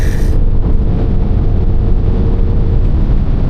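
A Mercedes E350e hybrid car accelerating, a loud continuous roar of engine and road noise heard from inside the cabin, steady throughout, with heavy rumbling buffeting.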